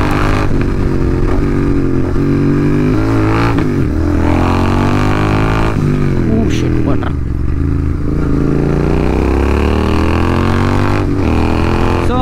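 A GT650 motorcycle fitted with an AEW exhaust is ridden, its engine a loud, continuous throaty drone that rises and falls with the throttle, while someone talks over it the whole time.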